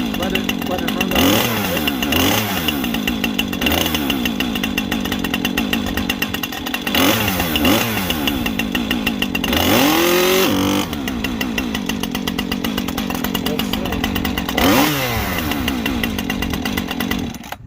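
A Husqvarna 550XP chainsaw warming up after a cold start, running loud and steady at idle with repeated throttle blips that rev the engine up and back down several times.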